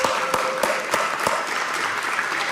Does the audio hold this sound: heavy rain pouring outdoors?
no